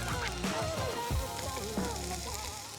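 Egg fried rice stir-fried in a pan made with leftover ingredients, a steady sizzle with scraping stirs running under a voice.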